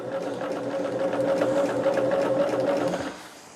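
A sewing machine stitches a quilt border along its quarter-inch markings, a loud steady rapid whir for about three seconds before stopping abruptly.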